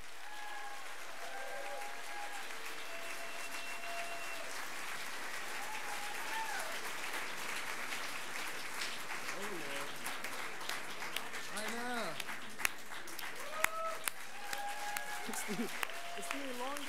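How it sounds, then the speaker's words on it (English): Sustained audience applause fills a Moth story slam venue, a dense steady clapping wash lasting throughout, with some brief whistles or cheers rising above it. "how about a big round of applause for Eric Call?"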